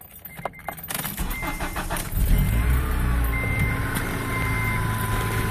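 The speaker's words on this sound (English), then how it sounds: "Let me turn on the car." An Acura RSX cranks and starts, with early clicks and key rattle giving way to a steady, close idle hum that keeps running to the end.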